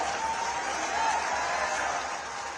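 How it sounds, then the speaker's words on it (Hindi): A crowd at a large government job and loan fair in Moradabad applauds in welcome of the Chief Minister, a faint, distant, continuous wash of clapping with no clear individual claps. "तालियों के साथ स्वागत"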